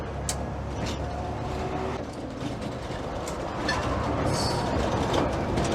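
A Leyland Super National bus drives and swings around a turn, its engine a loud, close rumble with rattling bodywork. The note swells toward the end as it pulls away.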